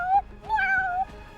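A person imitates a cat, giving a short meow followed by a longer, drawn-out stressed meow, both close and clear with no other talk.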